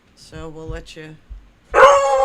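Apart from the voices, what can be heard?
dog howling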